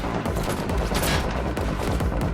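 Rapid gunfire in The Matrix Awakens video game, a dense close barrage of overlapping shots and bursts filling the whole moment without pause, loud and continuous, no voices.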